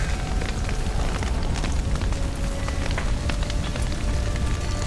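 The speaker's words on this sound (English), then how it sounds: "Looks like rain." Steady, dense hiss of heavy rain in The Witcher 3: Wild Hunt pours continuously, loud and close, with a low rumbling bed underneath and no voices.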